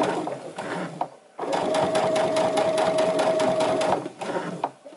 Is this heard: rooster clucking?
no